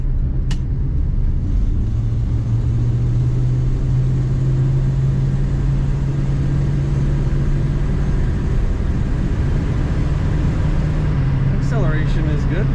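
A 1968 Ford Mustang Sprint hardtop with a floor-shifted automatic accelerates, its engine a steady low rumble heard from inside that rises slightly in pitch, with a voice talking over it.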